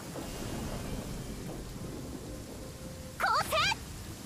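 Rain hisses steadily in a stormy scene in the Genshin Impact video game, a soft continuous wash, then a brief bright warbling chime sound cuts in near the end.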